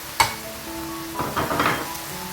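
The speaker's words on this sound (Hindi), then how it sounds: "अब हम इस पॉइंट पे नमक मिर्ची डाल देंगे ताकि वो भी हम साथ ही भून लें" Keema sizzles in a pan as salt, chilli and ground roasted cumin are stirred in, with a sharp metal tap at the start and a burst of frying crackle near the middle.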